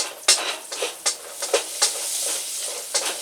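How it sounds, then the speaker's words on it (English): Vegetables being sautéed and stirred in a hot pan for a Cajun chicken and pecan rice dinner, with steady sizzling frying and repeated scraping stir strokes close up, no talking. "saute these around till they get kind of fragrant"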